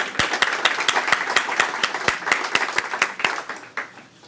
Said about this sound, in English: We can still give her a round of applause for Central Market York.